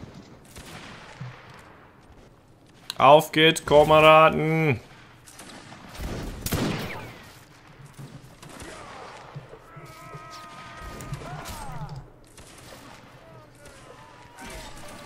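Musket fire and a cannon shot ring out in a Napoleonic Wars siege battle in Mount & Blade: Warband, with scattered bangs and a heavy boom mixed with game shouts and a player talking.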